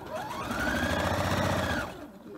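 A sewing machine stitches through quilt fabric at a 60-degree triangle seam intersection, a steady close whirring run of about two seconds that winds down at the end.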